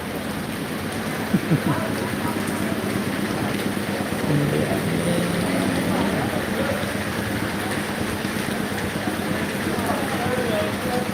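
Heavy rain pours steadily at the Aduputty church festival, a dense, even roar throughout, with faint voices mixed underneath.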